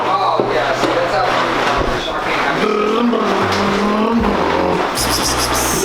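A Coyote-swapped Trans Am street car revs its engine hard at a drag strip, a loud continuous roar rising and falling amid crowd noise and talk.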